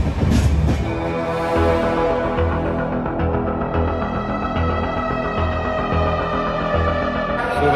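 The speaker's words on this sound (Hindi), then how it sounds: "तो फाइनली अभी ट्रेन चल रही है" A passenger train moves along the tracks near Ahmedabad, with steady rolling rumble and rhythmic wheel clatter heard from on board, continuous and fairly loud, with no talk.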